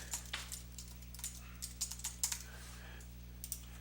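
Quiet computer-keyboard typing: irregular bursts of soft key clicks over a steady low electrical hum, close and faint.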